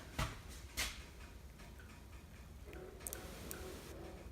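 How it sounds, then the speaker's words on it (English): Faint, quiet ticking in a hushed room, a few soft clicks spaced irregularly against low background hiss. "Do you hear it ticking over there?"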